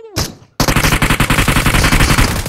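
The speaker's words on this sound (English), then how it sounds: "We're shooting this in front of us, dude." Gunfire in the video game PUBG: a sharp opening shot, a brief pause, then a loud, rapid automatic burst of evenly spaced shots continuing to the end, close and alone.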